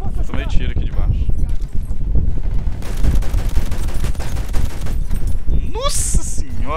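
Gunfire in the Battlefield 1 video game, rapid dense bursts and scattered shots layered over clattering battle noise, with whooshing effects near the end and someone speaking over it.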